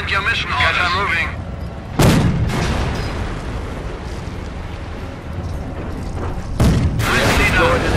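Artillery fire in Company of Heroes during a battlefield mission, two heavy booms several seconds apart over constant rumbling combat noise, with radio-style voices talking in between.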